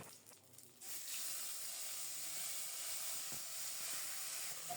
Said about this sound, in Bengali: এই তেলেই ফোড়নে দেব শুকনো মরিচ, গোটা জিরা আর একটা তেজপাতা।